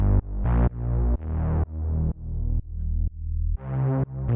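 Melodic techno bass from a saw-wave synth in Ableton Analog plays a rhythmic line of sustained notes, each swelling and cutting off in a steady pumping pattern, full and upfront with no voices.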